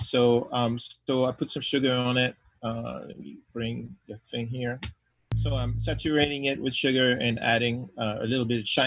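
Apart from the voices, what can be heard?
No everyday noises stand out.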